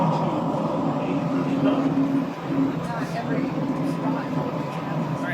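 An automated airport terminal train carries passengers between concourses, a steady loud rumble and whir of the moving car running throughout, with faint tonal hums and people talking quietly beneath.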